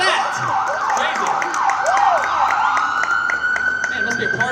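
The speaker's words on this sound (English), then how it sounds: "Even the sirens are going for you." Emergency sirens cycle loudly in fast rising-and-falling yelps, then settle into a long steady wail, with voices faintly underneath.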